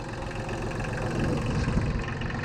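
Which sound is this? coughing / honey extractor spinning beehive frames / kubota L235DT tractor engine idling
kubota L235DT tractor engine idling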